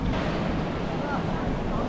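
Sea waves wash steadily against a seashore where people wait for fishing boats to return, a continuous broadband roar of surf mixed with wind buffeting the microphone.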